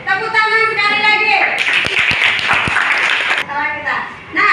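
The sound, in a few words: clapping hands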